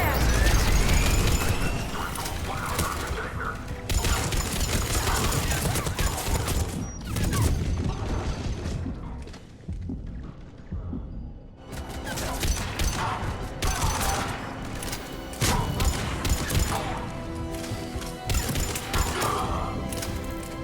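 Gunfire in a Mass Effect 3 battle at a checkpoint on Sur'kesh, with dense, loud bursts of shots, crashes and impacts running almost continuously, a brief lull in the middle, and combat voices speaking over it.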